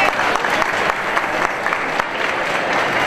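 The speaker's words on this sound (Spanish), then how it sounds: "Un aplauso para él." A crowd applauds steadily and densely for about three seconds at the presentation of C.D. Leganés's new 2017/18 season kit, with the clapping filling the whole stretch.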